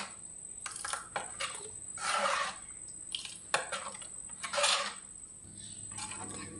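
Madhubhat, a thin sweet rice dish from Chittagong, is stirred in a cooking pot, producing several soft scraping swishes and light metallic clinks spaced irregularly, close and fairly quiet.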